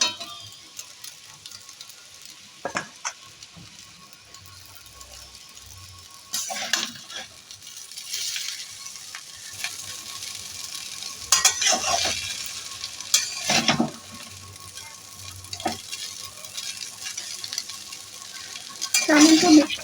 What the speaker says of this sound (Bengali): চাউমিনটা মিক্সড করার সময় গ্যাসের ফ্লেমটা কিন্তু আমি মিডিয়াম টু লো করে রেখেছি, ভালো করে মিশিয়ে নিচ্ছি।